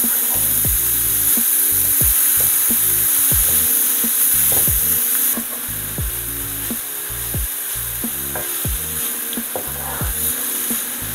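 Mixed vegetables for spicy paneer tikki cook in a pan to dry out their moisture, giving a steady close sizzle broken by regular scraping and stirring strokes. No one speaks.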